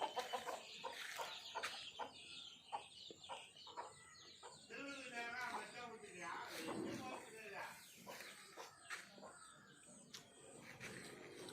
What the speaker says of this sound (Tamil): நம்ம வீட்டை கோழி குஞ்சு வருது, கோழி குஞ்சு வருது